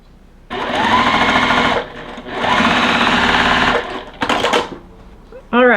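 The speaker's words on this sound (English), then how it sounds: "Then I'm going to sew these two together" A sewing machine stitches tiny quilt-block squares of three-quarter inch and one inch. It runs in two long steady bursts, then a short one, with a brief voice at the very end.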